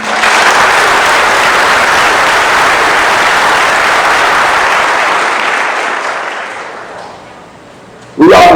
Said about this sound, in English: let's give a big round of applause to our graduates this evening